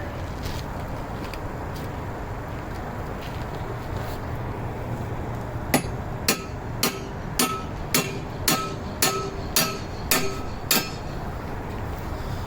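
Sharp metallic hammer strikes ring out in a steady series of about ten evenly spaced blows over a low background hum.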